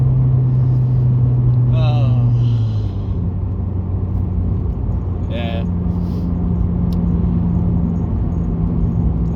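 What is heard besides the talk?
car with 1.5 litre naturally aspirated engine accelerating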